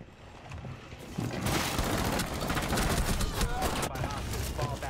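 Gunfire in Rainbow Six Siege during a ranked round: a dense, close rattle of shots and impacts that swells after the first second and carries on steadily to the end, with a player talking over it.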